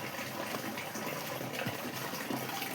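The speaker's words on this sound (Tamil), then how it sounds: "இந்த மாதிரி ஒரு 8 ரூபா பைப்பை மாட்டினாங்கன்னா தண்ணி பிடிச்சிக்கலாம்." Water runs steadily from a small, cheap pipe fitted against a wall, giving a continuous close gushing hiss with no pauses and no voices.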